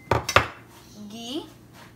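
Gulab jamun ingredients of rava, baking soda, lemon juice and ghee being mixed in a bowl: a few sharp spoon-on-bowl clinks up front, then quieter scraping and a brief faint tone.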